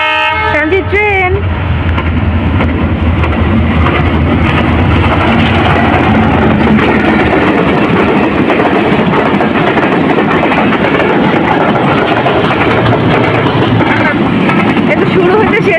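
Train passing a rail crossing, heard as a loud, continuous broadband rumble and clatter that fills the whole stretch, with a brief horn-like tonal blast at the very start.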